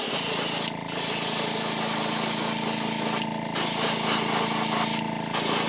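An airbrush sprays Createx opaque white base coat onto a fishing lure blank. It hisses continuously and close, with three short breaks where the spray briefly cuts out.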